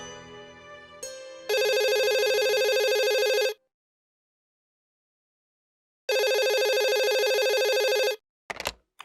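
Telephone ringing in a home, two loud electronic rings each about two seconds long separated by silence, preceded by brief background music and followed by a clunk as the handset is picked up.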